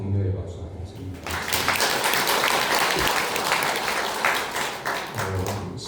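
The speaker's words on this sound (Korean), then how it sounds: "격려의 박수 한번 하십니다" A church congregation bursts into applause of encouragement during a Sunday service, a voice trailing off first before dense, steady clapping takes over, loud and sustained, with speech returning at the very end.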